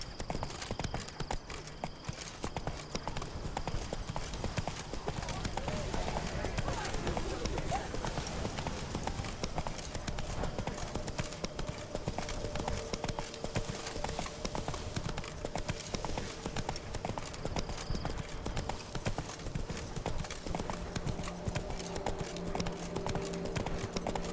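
Geralt's horse Roach trots in The Witcher 3: Wild Hunt, a steady, rhythmic clip-clop of hooves that runs close and continuous throughout, with a voice and other game dialogue over it.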